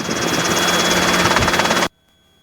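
A Robinson R22 helicopter engine and rotor drone steadily and loudly in flight during a training flight, then stop abruptly near the end.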